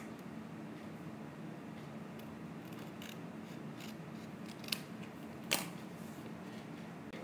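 Scissors cutting out a folded paper shape for a doll-sized microwave, faint close snips and crisp clicks scattered over a low steady room hum, with a couple of sharper cuts toward the end.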